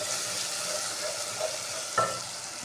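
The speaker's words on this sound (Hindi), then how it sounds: "ये हमने इसमें ऐड कर दिया लहसुन अदरक का पेस्ट भी।" Garlic ginger paste fries in a cooking pot with a soft, steady sizzle and a faint stir or clink near the end, heard alone without talk.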